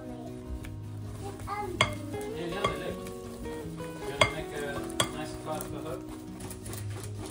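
Eggs and salt for Yorkshire pudding batter are stirred together in a bowl, with clinks of the utensil against the side over a steady background hum and occasional sharper taps.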